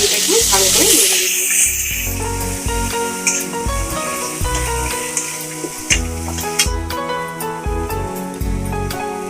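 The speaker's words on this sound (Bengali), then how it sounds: "ভালো করে নেড়ে নেব।" Pointed gourd curry being stirred in a pan with chili powder, turmeric and sugar, giving busy, repeated scraping and sizzling close up, while soft background music plays throughout.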